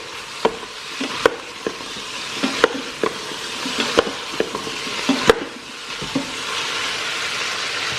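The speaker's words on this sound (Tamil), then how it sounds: "இப்போ வந்து காய் போட்டுட்டு ஒரு 4-5 மினிட்ஸ் நம்ம வந்து நல்லா வதக்கி விடலாம்." Vegetables sautéing in an Instant Pot for sambar rice give a steady sizzle, broken by repeated sharp scrapes and taps of a spoon stirring against the pot, close and alone with no talk.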